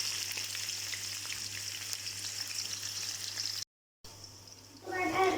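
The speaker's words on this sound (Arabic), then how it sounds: "أنا حاطة زيت وراح أضيف بالبصل" Sliced onions fry in hot oil with a steady crackling sizzle and a low hum, a brief cut to silence, then the frying resumes and swells louder near the end.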